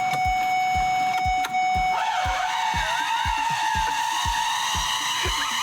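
A Ford vehicle's engine runs with a harsh rhythmic knocking thump and a shrill rising whine layered over it, loud and close.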